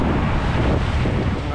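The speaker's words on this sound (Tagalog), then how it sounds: "Ang alon." Ocean waves at sea in the early morning wash with a dense, rushing roar, heavily buffeted by wind across the microphone in a short burst.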